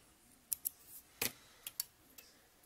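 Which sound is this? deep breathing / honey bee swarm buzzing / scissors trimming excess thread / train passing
scissors trimming excess thread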